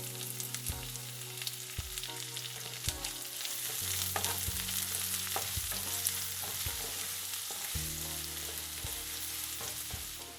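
Chopped onion sizzles and fries in hot oil with crisp curry leaves in a pan for an egg tawa fry, a steady close crackle broken by repeated scraping stirs.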